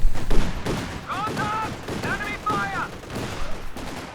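Battlefield gunfire in Company of Heroes 2 centred on a .55 cal sniper rifle, a few sharp shots amid a loud busy fusillade, with a commentator talking over it.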